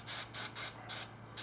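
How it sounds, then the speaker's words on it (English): Starting fluid sprayed onto hands from an aerosol can in short, loud, close hissing bursts, five in quick succession with brief gaps between them. "I'm actually going to spray my hands down this"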